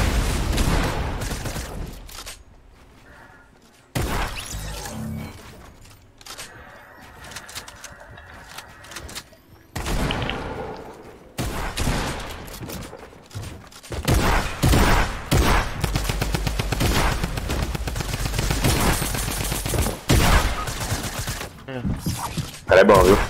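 Bursts of gunfire from shooting at a robot in a video game, sharp repeated shots scattered across loud passages with brief quiet gaps.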